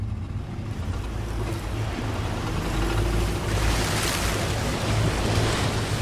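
An off-road vehicle pushes through a fast-flowing jungle river about two and a half feet deep, giving a steady, loud rush of churning water and wind that swells midway and continues throughout.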